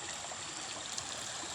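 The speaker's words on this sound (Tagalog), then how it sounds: "Mataas na yung tubig, gumagalaw." High creek water flowing steadily, a constant rushing wash with no voices, fairly soft and close.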